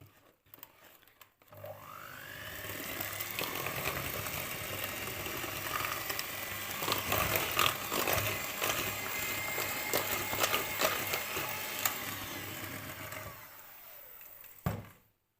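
Poppy-seed revani cake batter whisked with an electric mixer right after a glass of milk goes in, a steady motor whir with rising pitch at start-up, running continuously for about twelve seconds before stopping abruptly.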